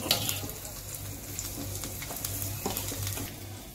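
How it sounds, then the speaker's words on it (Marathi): Crushed garlic frying in hot oil for a prawn fry, with a continuous close crackling sizzle and light spattering pops at an even level, nobody speaking. "तेल तापलेलं आहे, त्यात लसूण ठेचून घालायचं आहे."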